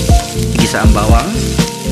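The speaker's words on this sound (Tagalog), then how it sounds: "Igisa ang bawang" Garlic sautés in hot oil, left over from frying catfish, in a pan for spicy ginataang hito. The sizzle is loud and close, with bursts of crackling pops throughout.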